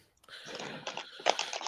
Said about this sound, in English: I guess you can hear Tommy like pulling out of the driveway because the gravels are all crunching